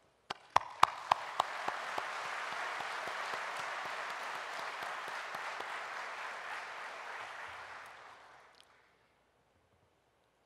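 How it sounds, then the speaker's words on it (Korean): A large audience gives sustained applause at a presidential address to the Korea Social Economy Expo. The clapping holds dense and even after a few loose opening claps, then fades out into silence. "존경의 박수를 보냅니다"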